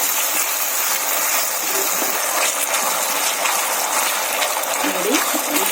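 Water poured into a hot pan while making Gobi Manchurian, a loud continuous rushing, gushing hiss that holds steady from start to finish without pause.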